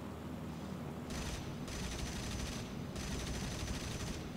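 In War Thunder, a Hawker Hurricane fighter's machine guns and cannons fire in two rapid, rattling bursts over a constant engine drone, loud and close in the cockpit.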